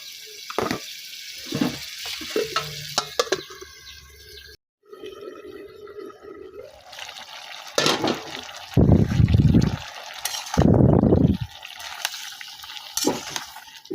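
Snake gourd sautéed in a pan in a village kitchen: loud, close bursts of sizzling and stirring come in waves, broken by a brief silence, with scraping and spattering throughout.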